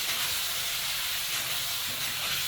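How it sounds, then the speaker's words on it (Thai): Marinated pork liver being stir-fried in a pan for garlic fried liver gives a steady, even hiss of sizzling that continues without a break. No one speaks. "แล้วก็เริ่มใส่ตับของเราลงไปได้เลยครับ ตับที่เราหมักไว้นะครับ ผัดไปเรื่อยๆเลยครับ"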